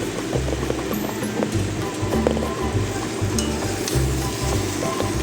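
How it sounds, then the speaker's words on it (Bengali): Boiled baby potatoes are mixed into frying masala for Bengali-style aloo dum, with a steady close sizzle and repeated clinks and scrapes of a spoon against the pan. "এই পর্যায়ে আমরা সেদ্ধ করে রাখা আলুগুলোকে অ্যাড করে দেব।"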